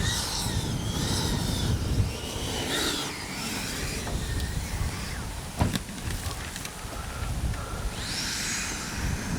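A Freewing MiG-29 80mm electric ducted-fan RC jet flies under dark skies, its steady whooshing roar rising and falling as it passes, fairly loud and continuous with wind-like noise throughout.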